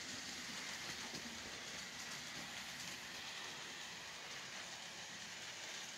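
An N scale model train runs along a layout, giving a steady, quiet rolling hiss with faint clicking throughout and no talking.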